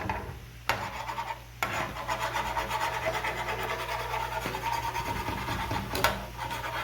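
A utensil scrapes leftover beef bits off a cooking pan, making a continuous rough rubbing sound broken by a few sharp knocks. It is close and fairly loud, with no speech.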